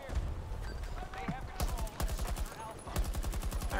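Rapid bursts of gunfire in the Battlefield 2042 beta, a shooter game, come in clusters of automatic shots with some talk underneath. The firing is loud and close, starting about halfway through and picking up again near the end.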